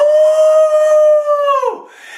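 A preacher imitates a dog howling with one loud, close, sustained tonal howl that holds level and then drops away sharply at the end.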